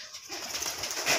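Pigeons in a farm loft with a pair of chicks coo softly, a brief low murmur set against a steady background hiss, with no one speaking.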